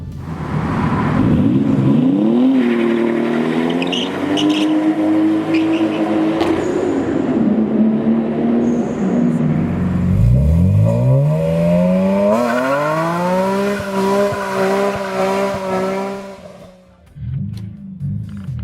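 An inline six-cylinder car engine revs repeatedly, its pitch rising and falling in smooth sweeps. The engine is loud and close, with no talk, and it settles to a lower idle near the end.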